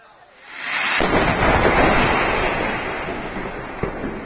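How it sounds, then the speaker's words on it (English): A massive explosion on the bank of the Ganges River at Nahati lets loose a loud, sudden roar that swells and rumbles on for several seconds, with a sharp crack near the end. "A massive explosion suddenly occurred on the banks of the Ganges River in Nahati, shaking the entire area."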